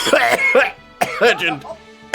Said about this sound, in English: coughing into the mic.